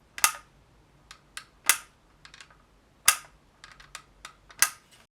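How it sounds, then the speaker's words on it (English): A small plastic clicker inside a lightweight handmade figure snaps in sharp, irregular clicks, some louder and some faint, spaced unevenly over a quiet background with no speech. "you've got that little clicker there, which is just a plastic bit that's hitting that plastic piece inside"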